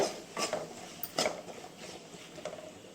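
A spoon clinks and scrapes against a pan as onion is stirred into softened tomatoes, with a few sharp taps amid soft, close kitchen shuffling.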